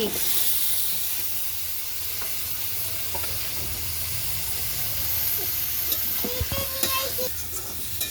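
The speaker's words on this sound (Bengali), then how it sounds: "আমি এখন নাড়া দিচ্ছি" A ridge gourd curry is stirred as it fries in a pan, a steady sizzle and hiss running throughout with scraping stirring strokes and a few brief clinks near the end, no talk.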